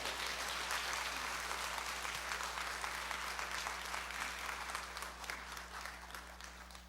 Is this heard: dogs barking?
no